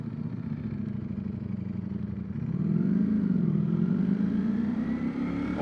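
A 2024 Ducati Streetfighter V4S engine idles in neutral with a rough, throbbing rumble, then revs up to a louder, rising growl that holds and wavers for several seconds.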